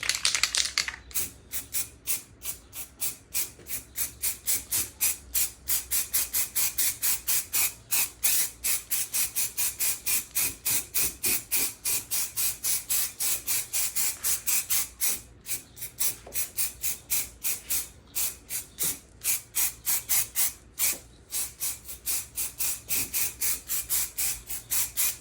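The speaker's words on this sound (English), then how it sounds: "Now we're going to come in with the rust brown, the darker Montana can, and just start to dust it on" Short bursts of spray from a Montana rattle can dust rust-brown paint onto a faux-patina Volkswagen panel, a rapid, regular hiss-and-stop rhythm sustained close up throughout.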